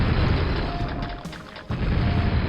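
A loud, rumbling cluster grenade explosion in the video game Quake: Dissolution of Eternity roars and fades, followed by a short dip and another heavy blast, dense and booming.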